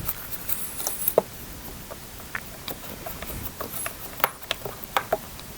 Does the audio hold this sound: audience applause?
no